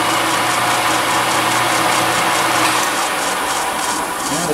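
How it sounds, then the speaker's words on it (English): A Korea Heavy Machinery (Kohema) 14"/20" x 20" gap bed lathe runs close by, giving a loud, steady mechanical drone with a faint rhythmic whir from the spindle belts and gearing. No one speaks. "Set it off right"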